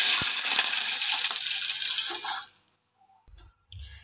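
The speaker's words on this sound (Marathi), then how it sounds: "नंतर ना याच्यामध्ये 1 ग्लास पाणी," A glass of water poured into a pan greased with ghee for rice kheer, a splashing pour lasting about two and a half seconds, then stopping, followed by a couple of faint clinks.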